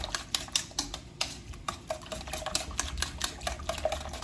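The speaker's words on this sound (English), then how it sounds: "Give that a nice little whisk." Cinnamon-spiced egg mixture for baked French toast being whisked in a bowl, a quick, even run of light clicking strokes close by, with no voices.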